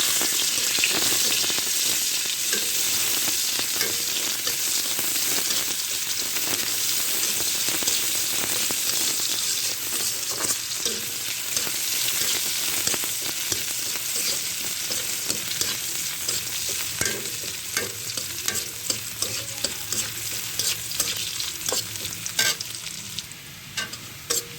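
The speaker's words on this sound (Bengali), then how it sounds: "তেল গরম হয়ে গেছে, এবার পেঁয়াজ দেবো।" Chopped onion frying in hot oil in a wok-style pan after fish was fried in it, a loud, continuous crackling sizzle like heavy rain, with occasional stirring clicks and no talk.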